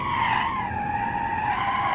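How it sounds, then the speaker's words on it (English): Front-wheel drive car drifting on dirt in the BeamNG video game: a steady, continuous tire skid with a sustained engine whine, heard up close with no talking. "We do get some beautiful front-wheel drive drifting on the dirt, though."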